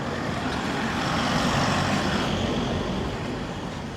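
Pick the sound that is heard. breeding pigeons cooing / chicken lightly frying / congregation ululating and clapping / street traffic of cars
street traffic of cars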